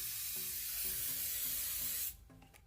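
Hairspray hisses from a can onto long hair pulled back into a ponytail, one steady close burst lasting about two seconds before cutting off to quiet rustling.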